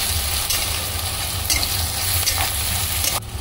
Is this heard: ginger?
yes